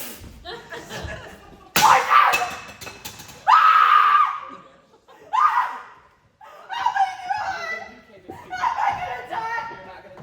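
A woman screams several times in bursts across a murder-mystery scene, loud and shrill, with pauses between outbursts and some other voices and laughter mixed in.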